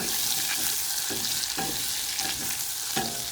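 Butter melting with flour and garlic powder in a pan for an Alfredo roux, a loud, steady sizzle close up with a few soft spoon scrapes.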